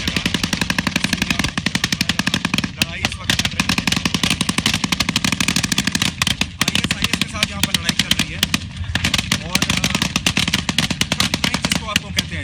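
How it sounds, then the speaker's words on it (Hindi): Dense, rapid gunfire at an ISIS front line keeps up for the whole stretch, with bursts of shots crackling loud and close almost without pause. "गोलीबारी भी ऐसी कि जरा सी गलती हमारी जिंदगी पर भारी पड़ सकती थी।"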